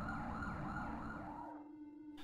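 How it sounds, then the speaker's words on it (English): A siren in the video game EarthBound wails with a steady electronic tone, then abruptly cuts off, leaving quiet ringing before a brief burst at the very end. "Sirens."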